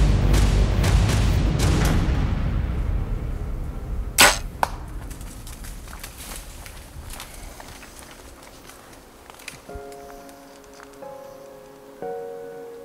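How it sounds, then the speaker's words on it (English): A single bow shot at a buck from a tree stand through a 25-yard shooting lane, heard as one sharp release snap with a quick thwack just after, outdoors in quiet woods with soft rustling and faint rain in the background. "I release that arrow."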